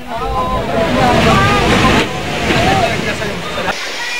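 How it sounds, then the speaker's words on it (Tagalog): Rough surf crashes and roars during a super typhoon in Virac, Catanduanes, with strong wind buffeting the microphone, loud and continuous, with a reporter talking over it. "Sa Vira Catanduanes, nagngangalit ang mga alon."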